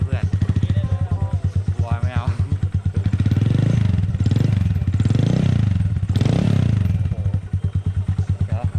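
A Honda MSX125 motorcycle customized in an American style idles close by with a lumpy, putting beat, then its throttle is blipped in a few short revs that rise and fall. Someone talks briefly near the start.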